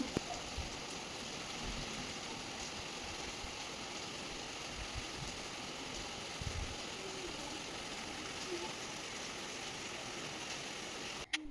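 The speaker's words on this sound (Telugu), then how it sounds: "సడన్గా వర్షం అయితే స్టార్ట్ అయిపోయిందండి" Sudden rain pours steadily in Hyderabad, a constant broadband hiss of drops on surfaces lasting throughout at moderate level, with no voices.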